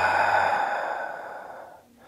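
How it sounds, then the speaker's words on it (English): A long breath exhaled out through the mouth during a yoga session, a steady airy rush that fades away over about two seconds, alone and fairly close. "Take a nice big inhale through your nose."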